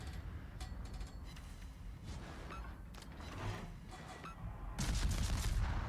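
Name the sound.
naval gun salvo from a video game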